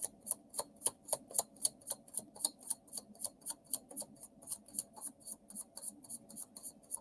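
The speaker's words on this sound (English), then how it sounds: "that was a great shuffle too" A tarot card deck being shuffled in a steady run of crisp, rapid riffling clicks, close and fairly quiet, with no talking.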